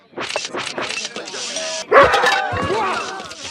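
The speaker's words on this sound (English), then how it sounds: "Oh, you bad dog! Bad neighbor dog!" A neighbor's dog in The Simpsons cartoon barks in a rapid burst of yips and woofs, loud and close, followed by commotion and crashing sounds with voices mixed in.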